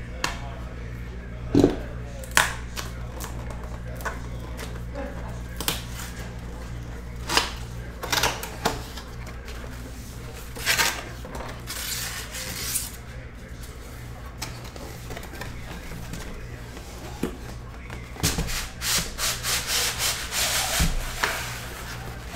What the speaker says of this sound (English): Sorry if you're sensitive to that styrofoam sound.